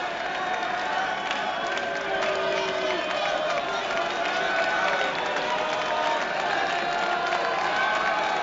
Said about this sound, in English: Listen to the crowd here for a minute.